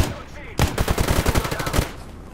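A sudden burst of rapid gunfire in the STALKER game, about a dozen sharp shots in quick succession over a second, loud and close, then fading back to quieter ambience.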